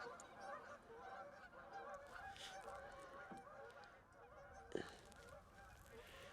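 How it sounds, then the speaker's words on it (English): A large flock of geese on a river in February honks continuously in the distance, overlapping calls forming a steady chorus, with one sharper nearby honk. "Whoa, look at all the geese."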